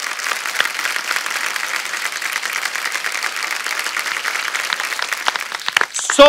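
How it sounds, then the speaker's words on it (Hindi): Audience applause at a stage event, a dense, steady sheet of clapping from a crowd that carries on loud for several seconds before breaking up near the end. "एक बार जोरदार तालियां"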